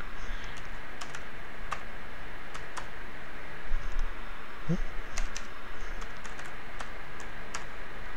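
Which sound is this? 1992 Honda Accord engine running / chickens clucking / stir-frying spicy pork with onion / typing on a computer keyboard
typing on a computer keyboard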